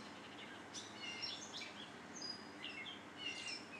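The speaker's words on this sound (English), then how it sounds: "I started hearing this bird." A bird calls outdoors in the evening, repeated faint, high chirping phrases over a quiet, hissy background, with no voices.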